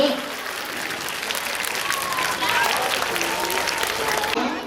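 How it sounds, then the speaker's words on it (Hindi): Loud, sustained applause from an audience welcoming a speaker at an Indian public school program, dense clapping holding steady throughout with a faint voice briefly underneath. "हम चाहते हैं कि जोरदार तालियों से डॉक्टर अशरफ साहब का आप स्वागत करें।"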